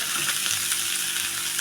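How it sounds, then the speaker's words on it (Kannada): Sliced onion and two green chillies sizzle in hot oil for a curd rice tempering, a dense, steady crackling hiss that stays close and continuous with no voices. "ಈರುಳ್ಳಿ, 2 ಹಸಿಮೆಣ್ಸಿನ್ಕಾಯಿ ಹಾಕಿಬಿಟ್ಟು ನಾನು ಸ್ವಲ್ಪ ಫ್ರೈ ಮಾಡ್ತೀನಿ"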